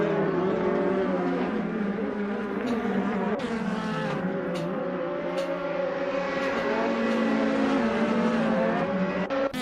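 Simulated DTM race cars in Assetto Corsa lapping the Lausitzring, a continuous loud engine drone with shifting harmonic tones and brief gear-change blips, heard alone with no talk.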